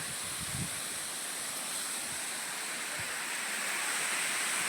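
Faint, steady roar of a waterfall heard from a distance on the climb to Kalsubai fort, a constant hiss with a few low thumps, no voices.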